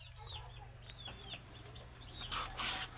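An 8-month-old chicken sick with avian malaria, clucking softly in a few short, faint calls over a low background hum, with a slightly louder burst near the end and no speech.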